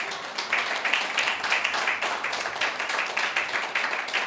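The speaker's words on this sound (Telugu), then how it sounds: "గట్టిగా చప్పట్లు కొట్టండి ఒకసారి" A congregation at a gospel healing service claps loudly together, a dense, steady roar of hands that carries through the whole stretch with no pauses.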